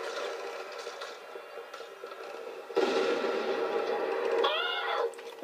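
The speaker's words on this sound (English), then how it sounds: "Look at this explosion." An explosion in the Crackdown video game bursts in loud and broadband midway, with a sustained rumbling roar after the blast.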